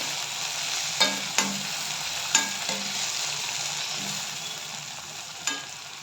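Tomatoes sautéing in oil in a pan with onions for baingan bharta, a steady close sizzle broken by a handful of sharp spoon scrapes and clanks against the pan, no voices.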